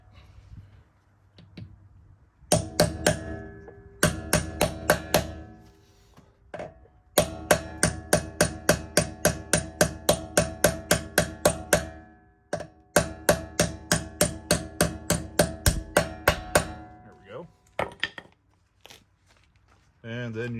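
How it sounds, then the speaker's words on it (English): A hammer strikes a 12-point 19mm socket onto swollen lug nuts on a Ford, sharp metallic blows in rapid rhythmic bursts of about a dozen hits each, separated by short pauses, loud and close. "We're going to hammer these onto the lugs."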